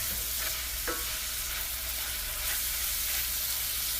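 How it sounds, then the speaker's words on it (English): Corn frying in vegetable oil in a skillet gives a steady, close sizzle with a couple of brief spatula scrapes and a low hum beneath. "Everything to fry, the corn and everything."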